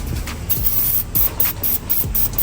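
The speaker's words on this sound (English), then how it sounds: "So we're going to hit it with some PB Blaster." PB Blaster penetrating oil hisses from an aerosol can onto the strut of a Nissan 370Z in several short, loud, close bursts separated by brief pauses.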